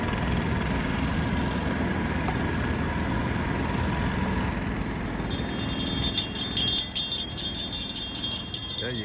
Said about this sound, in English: I do have my bell today.